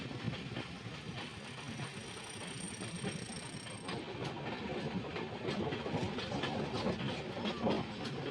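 An express train on the Lokmanya Tilak–Agartala route rolls past close by in a steady, continuous roar of wheels and rail clatter, with no voices over it.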